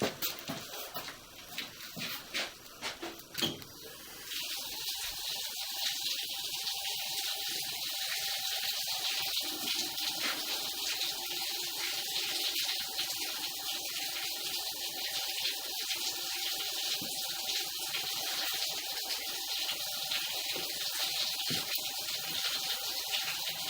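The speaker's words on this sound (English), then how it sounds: "Actually, does that sink still work?" Cold water runs from a basement sink tap, a steady broadband hiss and splash that starts after a few seconds of faint clatter and continues evenly to the end.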